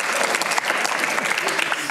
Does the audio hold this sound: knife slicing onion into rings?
no